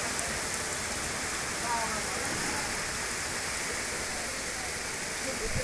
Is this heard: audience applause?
no